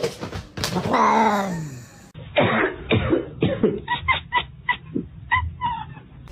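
Clucking and rooster-like calls from a chicken, loud and close, a rising squawk at first, then a run of short, choppy clucks and cackles with cat-like cries mixed in, over a steady background hum.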